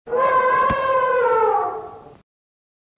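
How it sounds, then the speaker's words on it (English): An elephant gives a single loud, clear trumpet lasting about two seconds. Its pitch holds and then falls slightly before it cuts off. "Elephant"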